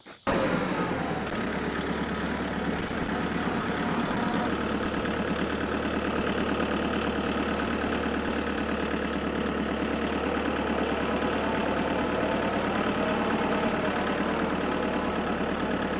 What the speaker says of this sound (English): gonna go get my tractor